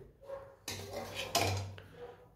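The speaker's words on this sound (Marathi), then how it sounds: "आता आपण तिला प्लेटीवर काढू." Spicy vermicelli served from a pan onto a plate, with a couple of close metal scrapes and clanks of a utensil against cookware, one louder knock near the end, over faint room tone.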